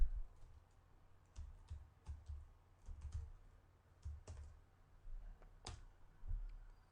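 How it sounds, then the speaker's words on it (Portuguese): Soft, close computer mouse clicks, scattered singly and in quick pairs over several seconds, faint against a low hum, with no talking. "clico sobre o container"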